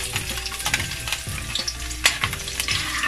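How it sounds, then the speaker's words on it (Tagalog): Garlic hits a hot pan and fries with a close, crackling sizzle, broken by a few sharp spatters and stirring scrapes over a few seconds. "Pag mainit na yung ating pan, ilagay na natin yung bawang."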